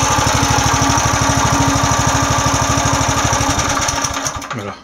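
A small mini excavator engine runs with a fast, steady chugging pulse, loud and close, then sputters and winds down near the end, with no talking.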